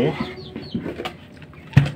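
Chickens on a Chinese duck farm give a few short, close clucks and calls, ending with one sharper, louder squawk.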